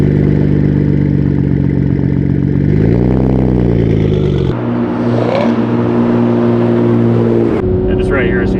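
An RB engine in a Nissan R32 GTR heard from inside during a ride along, a loud steady drone that climbs and shifts pitch through gear changes, with voices talking over it.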